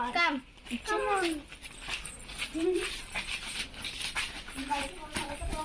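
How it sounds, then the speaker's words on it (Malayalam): Abandoned puppies near a temple give high, rising whimpers and yelps scattered through the clip, close by, while people talk over them. "നമ്മള് ഇന്ന് നമ്മുടെ അമ്പലത്തിന്റെ അവിടെ കുഞ്ഞു പട്ടിക്കുഞ്ഞുങ്ങൾ വന്നിട്ടുണ്ട്."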